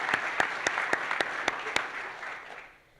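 Crowd applause at an evening gathering at the National World War I Museum and Monument, steady clapping with distinct louder claps early on, gradually thinning and fading to near quiet by the end.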